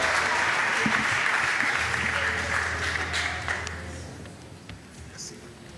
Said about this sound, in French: On peut encore applaudir le Seigneur et applaudir son serviteur.